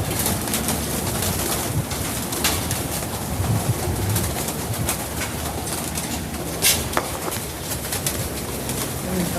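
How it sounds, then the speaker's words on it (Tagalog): Breeder pigeons in a racing pigeon loft cooing, with soft overlapping coos and occasional rustles against a dense, noisy background, close and fairly loud. "dito naman tayo sa kanyang breederan o mga stock bird, yung mga breeder bird"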